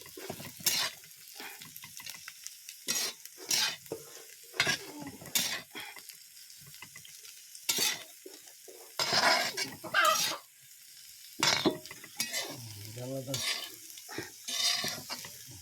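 Intermittent sizzle of small dried shrimp (jawla) frying in oil on a griddle over a wood-fired clay stove, broken by repeated scraping and clinks of a utensil against metal, close and moderately loud.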